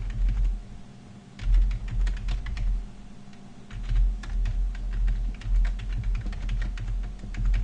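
Steady computer keyboard typing while writing Scala code, a quick irregular patter of keystrokes up close over a low hum, with no voices.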